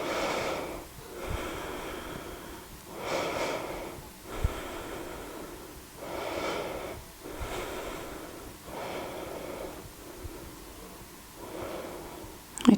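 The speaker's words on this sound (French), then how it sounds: "on respire ici dans la posture et on reste 5 respirations" Slow, deep breaths drawn in and out during a held yoga posture in a vinyasa hip-opening session, about five full cycles with a steady rhythm, close and fairly quiet, no talking.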